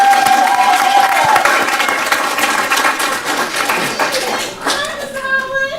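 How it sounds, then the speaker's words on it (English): Crowd clapping and cheering at a school superintendent's citation ceremony, a loud mix of hands and shouts with children's voices, fading slightly before a brief swell near the end. "So if y'all could, clap your hands together"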